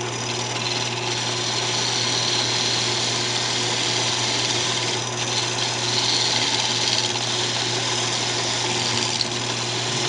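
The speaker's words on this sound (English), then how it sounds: "Going to bring it down with the parting tool." A parting tool cuts into a wooden candlestick spinning on a wood lathe, giving a steady, close whirring hum with a constant scraping hiss on top, even and continuous throughout with no voices.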